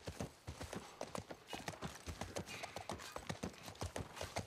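Horse hooves gallop across ground in The Last of Us Part 1, a quick, steady drumming of close hoofbeats that runs throughout, with no talk over it.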